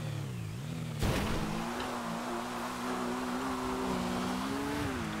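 A smoking motorbike ridden in GTA V Online roars as its engine revs rise and fall, with a sharp impact-like burst early on, then a sustained loud drone that swells gradually toward the end.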